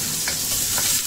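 Garlic sizzles steadily in hot oil while carp tail is cooked, a close, continuous frying hiss with faint stirring.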